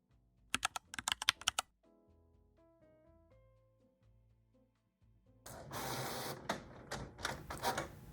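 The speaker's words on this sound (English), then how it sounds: "let's go ahead and get to printing" A printer printing a brand pattern onto vellum paper, quick clattering clicks, then stepped tonal whirring of the carriage, then a louder, rougher grinding feed toward the end, close and without speech.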